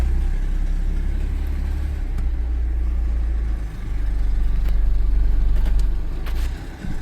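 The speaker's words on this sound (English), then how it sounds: "It's misfiring like crazy." A car engine running with a heavy misfire, a continuous close, low rumble that dips briefly midway before resuming at the same level.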